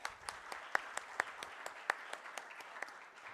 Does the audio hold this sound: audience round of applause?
yes